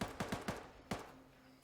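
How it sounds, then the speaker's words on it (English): Rapid gunshots ring out in a competitive tactical shooter match, four or five sharp cracks in a quick burst followed by a lone shot, each decaying quickly. "we're hearing the first gunshots over here"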